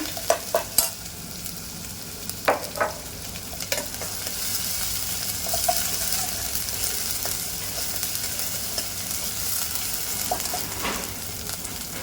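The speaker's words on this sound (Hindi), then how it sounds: "मसाले को अच्छे से भूनेंगे कि इसका अदरक लहसुन का एक कच्चापन इसमें ख़त्म हो जाए" Ginger-garlic spice paste sizzles and crackles steadily in a hot pan, with occasional scraping stirs and clinks of a utensil.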